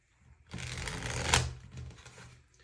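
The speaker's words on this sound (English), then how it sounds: "So let me shuffle these cards." Tarot cards being shuffled by hand up close, a single brisk riffle of roughly a second that rises to a sharp papery snap before settling into softer rustling.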